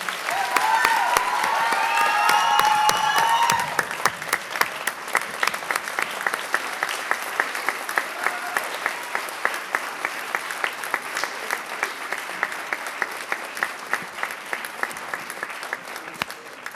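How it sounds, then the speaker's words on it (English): Applause from the audience at a police department promotions ceremony honoring the candidates, a long, steady wash of many clapping hands that begins over a few cheers and whoops and keeps going at a strong, even level. "One more big round of applause for all of our candidates."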